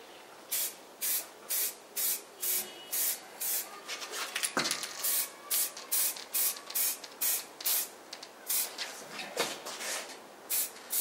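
Spray paint applied to chopper motorcycle wheels in long controlled strokes, a steady rhythm of short hissing bursts with brief pauses between them, close and clear.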